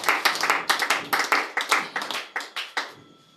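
A church congregation claps together in a rhythmic beat of sharp, fairly close hand claps that slows and fades out at the end.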